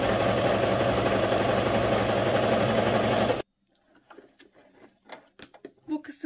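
An electric sewing machine stitches the edges of a cross-stitch piece with a loud, rapid, even whirring for about three seconds, then stops abruptly, leaving faint handling clicks and brief voice sounds.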